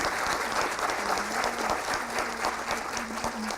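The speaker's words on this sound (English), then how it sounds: "let me invite you to give a big applause to" A conference audience applauds its speakers at an economics forum, a dense, sustained patter of many hands filling the room at an even level for several seconds.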